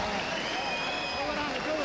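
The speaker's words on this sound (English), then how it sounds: "A round of applause" Boxing arena crowd applauding and cheering after a fighter is taken out in round four, a dense steady wash of clapping and crowd noise with an announcer's voice over it.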